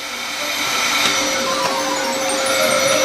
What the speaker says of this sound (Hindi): एक नियमित हेयर ड्रायर हमारी मदद करेगा